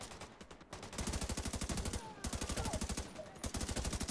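Rapid shotgun blasts from The Division 2 video game, a dense run of loud, regular shots fired almost back to back, with a brief pause before the firing resumes.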